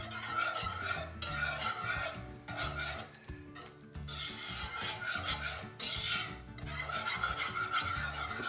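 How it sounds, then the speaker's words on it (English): Whisk scraping and stirring a sauce in a pot for a braciole dish, continuous close raspy rubbing strokes in a steady rhythm. "I'm getting a whisk, and I'm just whisking that in here"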